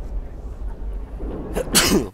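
One sharp, close human sneeze bursts out loudly after a quiet stretch with low background hum.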